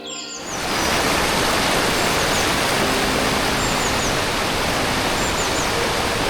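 Rushing water at Kravika waterfall in Bosnia and Herzegovina makes a steady, loud, broadband roar throughout, with faint bird chirps above it.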